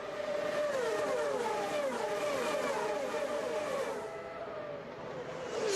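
IndyCar race cars scream past at full speed through the fastest part of the 2001 Toronto street circuit, a loud, high engine whine with pitch sweeps as cars pass, briefly dipping before another car surges in.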